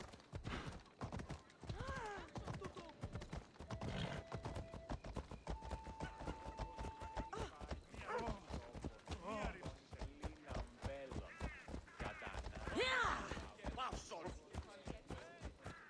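A horse gallops with steady rhythmic clip-clop hoofbeats in the Assassin's Creed Odyssey video game, joined by a brief whinny and spoken dialogue over the running.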